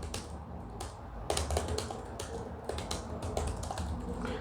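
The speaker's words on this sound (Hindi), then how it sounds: "तो हम टाइप करके देखते हैं।" Someone practises touch typing on a computer keyboard, tapping the S key repeatedly in a rapid, uneven stream of light clicks over a faint background hum.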